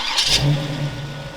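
A carbureted car nicknamed the Grasshopper catches and settles into a steady idle, a close, mid-pitched engine hum with a quick rise at the start.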